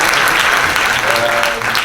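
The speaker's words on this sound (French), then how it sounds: "on peut l'applaudir" Loud, steady applause from an audience at a talk about high-level sport, dense clapping filling the whole stretch with no pause.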